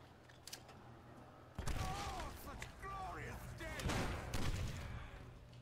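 Gunfire and a grenade blast erupt in a Call of Duty custom zombies map called Titan, a loud sudden burst after a quiet start followed by sustained noisy combat with creaking and zombie-like cries.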